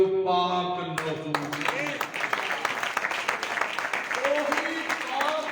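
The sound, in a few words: congregation clapping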